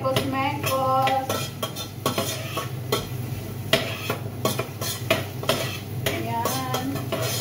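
A utensil scraping and clinking against a pan while garlic, celery and carrots are stirred, with repeated close scrapes and knocks over a soft background sizzle.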